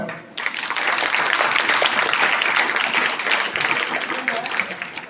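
An audience welcoming a newly appointed guest at a police anniversary function with sustained, dense clapping that starts abruptly after a short pause and holds loud and steady to the end.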